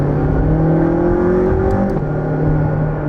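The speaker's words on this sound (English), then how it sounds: "And the sound of the roof scoop, you can really hear it." A McLaren 675LT supercar's engine drones steadily and loudly, with a rising whirring intake note from the roof scoop swelling over it, and no one speaks.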